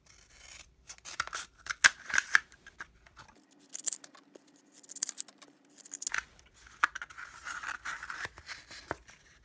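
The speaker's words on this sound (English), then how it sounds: "with a scissor, cut each one of those lengthwise" Scissors snipping lengthwise through cardboard toilet paper tubes, bursts of crisp cuts and rustling at close range with a short pause in the middle, no talking.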